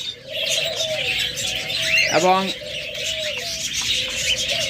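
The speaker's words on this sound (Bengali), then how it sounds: "আমাদের কাছে হিউজ পরিমাণ ককাটেল পাখি রয়েছে, আমাদের কাছে রয়েছে অসংখ্য পরিমাণ লাভ বার্ড" Cockatiels, lovebirds and diamond doves in a bird shop, a busy backdrop of chirps and tweets with repeated whistled calls and one sharp rising call in the middle, under a voice speaking.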